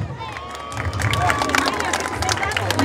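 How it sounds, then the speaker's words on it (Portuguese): A children's day celebration audience in Floresta, Pernambuco breaks into applause and cheering, a dense burst of clapping with children's shrill voices and shouts over it, swelling after a brief start. "Uma salva de palmas para vocês."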